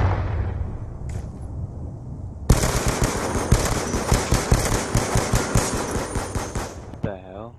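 Rapid bursts of automatic gunfire from a shooter video game match crackle loudly and continuously for about five seconds, preceded by quieter game noise and a brief tone, with sharp repeated shots in quick rhythm.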